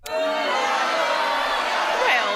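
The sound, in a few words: studio crowd reacting unhappily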